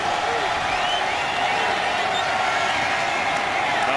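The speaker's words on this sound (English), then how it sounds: "Crowd into it on 3rd and 3" A preseason NFL stadium crowd, Chiefs at Bucs, roars steadily on a third-and-three snap, with a continuous wash of cheering and whoops held at an even level throughout.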